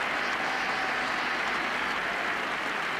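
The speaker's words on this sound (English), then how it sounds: "And even his partner Botham gave it applause." Cricket crowd applauding a well-placed offside shot by Robinson in a 1985 Ashes Test match, a steady, dense wash of clapping that holds evenly throughout.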